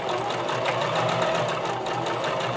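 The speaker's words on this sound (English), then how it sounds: "I'm going to sew on the top narrow side on the 15" A sewing machine stitches a placket in a fast, steady, rhythmic run of needle clatter, close and moderately loud, with no voice.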